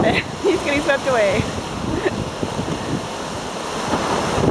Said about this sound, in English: Those are at least 40 feet waves out there.